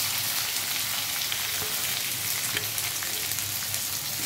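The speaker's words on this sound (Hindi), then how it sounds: "प्याज को अच्छे से भूनने देंगे" Onions sizzle steadily in a hot pan with cumin, coriander, fenugreek and curry leaves, a dense crackling hiss with occasional small pops, close and continuous without any talking.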